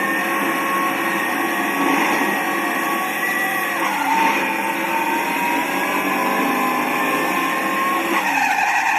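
A racing car in a video game, played on a Dell Inspiron laptop's speakers, drives at full speed with a steady high engine whine and tire squeal, unbroken and fairly loud, with no talking.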